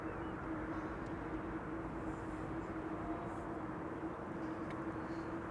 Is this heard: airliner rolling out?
yes